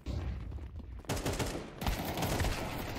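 AK rifle fire in Counter-Strike 2 comes as dense, rapid bursts, loud and close, with a short pause between two sprays.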